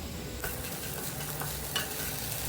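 Okra with turmeric and salt fries in a pan and is stirred, giving a steady close sizzle with soft scraping strokes and no talk.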